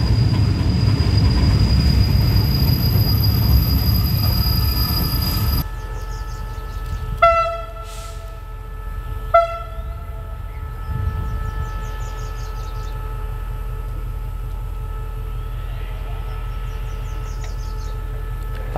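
Train at Pha Sadet station in Saraburi, Thailand: a loud rumbling passage that fades, then two short horn blasts and a high ringing wheel or bell tone over a quieter idling engine, birds chirping faintly.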